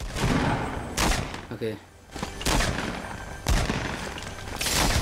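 Gunfire in the Fortnite battle royale, repeated loud bursts of shots in several clusters with a brief lull between them, a player's voice speaking briefly over the action.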